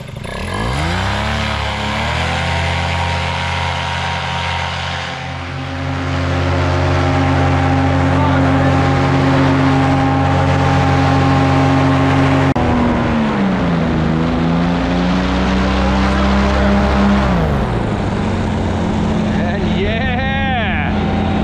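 A paramotor engine and propeller roar loud and close throughout a foot launch in zero wind, steady at first, then swelling in pitch and power around mid-clip, with shifting tone toward the end.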